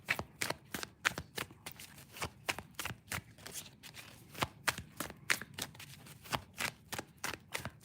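Tarot cards are shuffled and laid out in a quiet room, with a steady series of crisp, close slapping and riffling snaps and no talking.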